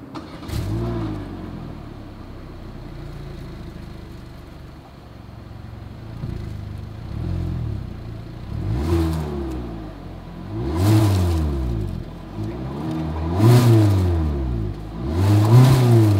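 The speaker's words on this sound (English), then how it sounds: "As always, here is that exhaust clip." A 2021 Hyundai Elantra's exhaust revs repeatedly from a steady idle, each blip rising and falling, the later pulls louder and sharper, heard close with no talking.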